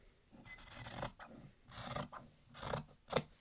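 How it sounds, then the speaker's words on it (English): Scissors cut fabric for a mask cover in several short rasping strokes with brief pauses between them, close and fairly clear. "I'm just going to cut all the way around"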